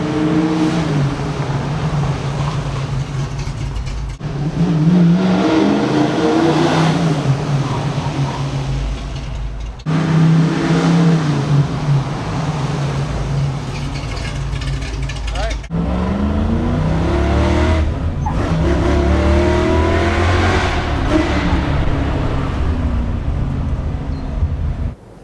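A 1960 Ford Starliner being driven, its engine droning and surging steadily in a loud, continuous roar with revs rising and falling across several pulls, punctuated by brief dips between stops.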